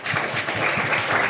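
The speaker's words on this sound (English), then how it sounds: "shall we give Mr. Andrew a round of applause?" Conference audience applauds Mr. Andrew Chow at an agency innovation event, a steady, dense wash of clapping from a crowd that holds at an even level throughout the short burst.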